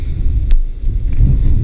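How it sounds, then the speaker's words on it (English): Wind blows outdoors, buffeting the microphone with a loud, low, continuous rumble that swells and eases. "but this is enough wind for it"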